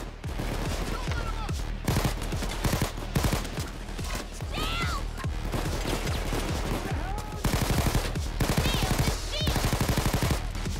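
Rapid bursts of Tommy gun fire in the Payday 2 heist game, loud and near, fired in repeated volleys across the whole stretch amid other gunfire and game noise.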